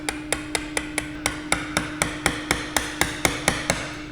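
Hand chiseling a wooden bridle joint: a steady run of about eighteen sharp mallet-on-chisel taps at an even, quick rhythm, close and clear, with a faint constant hum underneath and no talking.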